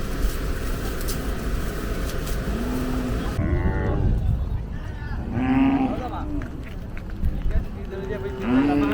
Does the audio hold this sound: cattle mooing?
yes